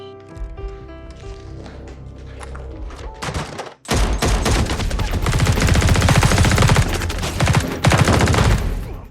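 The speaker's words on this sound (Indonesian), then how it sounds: "Saat aksi tembak-menembak" Rapid, loud gunfire and heavy impacts from a film shootout scene, a quieter tense build-up giving way to dense sustained bursts of shots and thuds, close and overwhelming.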